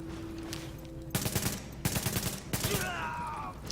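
Automatic weapons fire rapid bursts in the shooter game Tom Clancy's The Division, with three loud volleys separated by short pauses over a low background hum.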